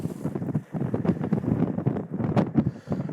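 Gusty wind buffets the microphone on a boat drifting on rough water while walleye fishing, a steady roaring rush with rising and falling surges and no voices.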